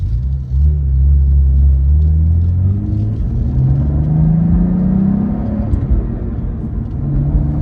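A Cadillac with magnetic ride suspension driving on the road, a steady low engine rumble and tyre whir throughout with a gently rising engine tone, close and loud, no talking.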